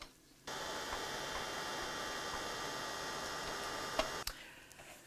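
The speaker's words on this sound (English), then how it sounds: "And then I'm just going to dry that off again with my heat gun." A heat gun drying colouring, a steady blowing hiss with a faint hum that starts abruptly, holds evenly for about four seconds, then cuts off with a small click.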